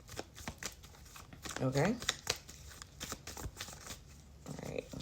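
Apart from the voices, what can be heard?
tarot cards being shuffled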